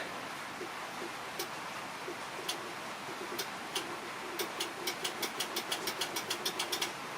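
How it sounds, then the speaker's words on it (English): Sharp little clicks from a glass-fusing kiln's lid safety switch and relay over a low background hum, sparse at first, then quickening into a rapid run of evenly spaced clicks. "What you want to do is hear a click."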